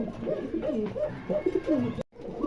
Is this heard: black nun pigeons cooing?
yes